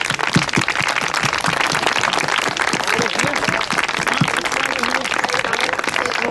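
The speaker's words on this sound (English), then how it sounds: "Can we give her a big clap?" An audience claps in a dense, sustained burst of applause, loud and continuous for several seconds.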